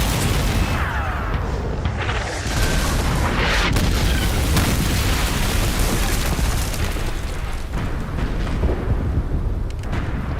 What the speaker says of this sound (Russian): Шведы ответили стрельбой